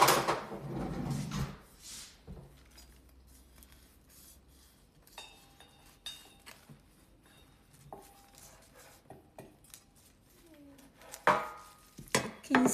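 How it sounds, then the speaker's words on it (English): A knife slices through a loaf of fibre-rich, high-protein banana bread with nuts, giving soft, scattered cutting taps and knocks on a board, with a couple of louder thuds near the end and no talking. "Let's cut the slice."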